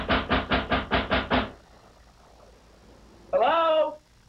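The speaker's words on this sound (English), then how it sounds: "got the burglars knocking on my door 2 minutes after I leave the house" Seven quick, evenly spaced knocks on a door ring out loud and close, followed by a pause and then a short tonal voice-like call.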